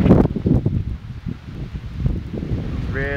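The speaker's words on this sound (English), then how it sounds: "Really windy, guys." Strong gusts roar and buffet the microphone in loud low rumbles in a park, with leaves rustling and a brief voice near the end.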